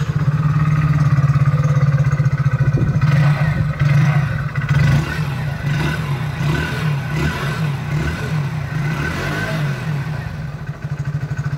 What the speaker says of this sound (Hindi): आपको मैं एग्जॉस्ट साउंड थोड़ा सुनाता हूँ, आप कमेंट करके बताना कैसा लगा इसका इंजन साउंड